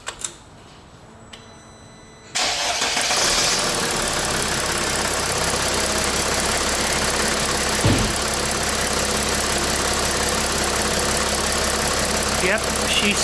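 A brief quiet stretch, then the OM642 diesel engine of a Mercedes Sprinter van turns over and settles into a loud, steady, rattling, clicking idle that continues close by.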